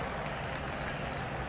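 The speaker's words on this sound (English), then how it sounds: "The crowd giving Marco a hand as he climbs out." Faint, steady crowd applause rises from the grandstands at an IndyCar street race in St. Petersburg as driver Marco climbs out of his car. The clapping forms a distant, even wash with no clear individual claps.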